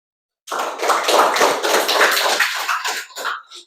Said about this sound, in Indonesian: terima kasih kepada kelompok 2. Tepuk tangan